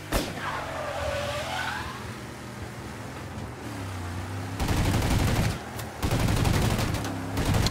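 Gunfire and racing cars in Mafia Definitive Edition, with engines droning through the first half before bursts of rapid shots and skidding crowd in loudly near the end.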